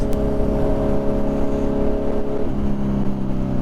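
A Kawasaki Z900 motorcycle engine drones loudly and steadily at close range, its deep exhaust note shifting pitch partway through, with no distinct pops standing out.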